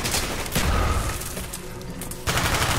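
A frag grenade explodes in the shooter game Call of Duty: Black Ops, amid a dense rumble of rapid in-game gunfire and booming blasts that stays loud for the whole short stretch.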